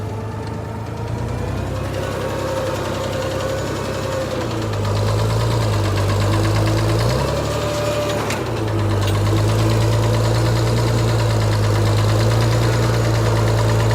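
A 1955 International Harvester pickup engine runs steadily in first gear, loud and close, with a droning idle whose pitch rises and dips as the revs shift, holding a constant rumbling tone throughout.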